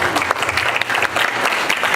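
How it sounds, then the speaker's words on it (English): Audience applause for a guest from Louisville, Kentucky, at a community presentation: dense, steady clapping from a crowd filling the full two seconds, fairly close and loud, with no talk over it. "Let's give him a round of applause."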